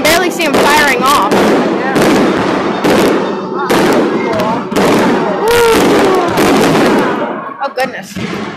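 Fireworks exploding in quick succession, dense loud bangs, crackles and whistling bursts overlapping, with people talking and exclaiming over them.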